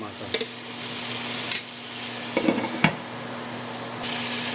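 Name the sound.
stirring food sizzling in a frying pan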